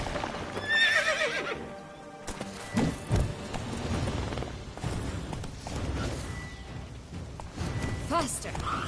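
Roach the horse in The Witcher 3 whinnies early on, then hooves clatter in a running rhythm under game effects and a swishing whoosh, with voices speaking briefly over the action.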